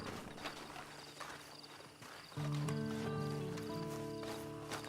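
Hooves of a horse clip-clop steadily in Red Dead Redemption 2, soft and mid-distance under a bed of game ambience, with a held musical drone swelling in about halfway through.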